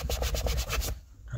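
Rapid, rhythmic scrubbing scrapes on plastic inside the rear seat back of a 2019–2023 RAM pickup, about eight quick close strokes, then a short pause.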